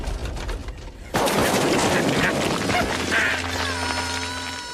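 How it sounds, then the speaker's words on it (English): A loud explosion sound effect in a TV sitcom about the Addams Family, a sudden blast breaking in and then rumbling and crackling for several seconds. "Tish, that's fire in the hole! Fire in the hole!"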